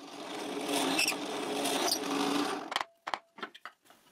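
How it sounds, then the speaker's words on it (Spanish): Power drill with a 7 mm bit widening holes in wood, a steady whirring hum for a few seconds that cuts off, followed by short separate bursts of rattling and clatter. "agrando un poco los agujeros con una broca de 7 milímetros"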